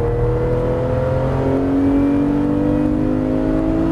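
Porsche GT3 RS at full throttle on the Issoire circuit, a loud, continuous engine note climbing steadily in pitch as it accelerates, heard from close by with no voices.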